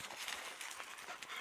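Puppies panting close by, a quick run of soft, breathy huffs repeating steadily with no voices over them.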